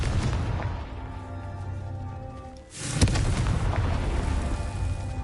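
A Confringo blasting curse in Hogwarts Legacy sets off a deep booming explosion after a brief lull, with a rumbling roar that trails on beneath a steady game soundscape.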